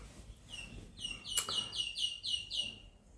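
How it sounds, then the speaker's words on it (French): Small birds chirp outdoors in a repeated series of quick, bright, high notes at moderate distance, with soft background ambience and no talking. "Il y a des oiseaux qui m'accompagnent dans ma vidéo aujourd'hui."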